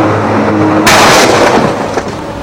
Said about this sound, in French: Et regarde ça, Jamy, ce broyeur est capable d'avaler une voiture entière avec son moteur et de la digérer en moins d'1 minute.